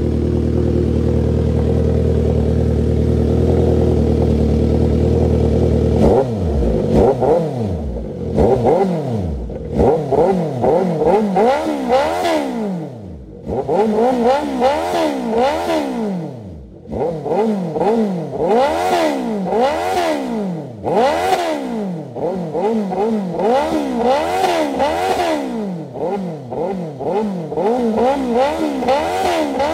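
Two 1-liter motorcycles, a 2021 Kawasaki ZH2 with a slip-on exhaust and a 2022 Suzuki GSX-S, rev hard in repeated bursts after a steady idle, loud and close, each throttle blip rising and falling sharply with no talk.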